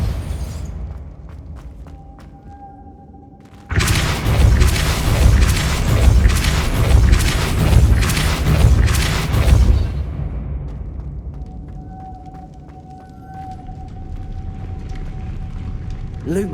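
In Hogwarts Legacy, a Depulso spell blast hits with a sudden loud boom and a roaring, rumbling rush that holds for about six seconds before fading back to a quieter ambient hum.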